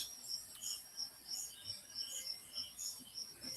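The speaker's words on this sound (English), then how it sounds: "Crickets." Crickets chirp steadily in repeated high pulsing trills, faint and distant, over a low background hiss with no talk.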